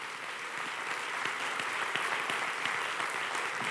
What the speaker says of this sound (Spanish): Dale un fuerte aplauso al Señor por eso.